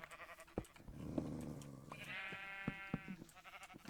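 Sheep bleat in a Minecraft UHC game, a drawn-out wavering bleat in the middle, set among clicks and soft thumps of gameplay, fairly quiet overall.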